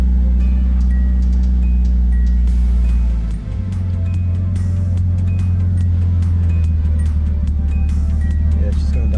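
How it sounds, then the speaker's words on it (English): A Datsun 280ZX Turbo engine runs steadily with the throttle held open, a loud continuous drone whose pitch drops and settles about midway as the gas is released, with a voice speaking over it. "I'm literally holding on the gas, so I'll let off it."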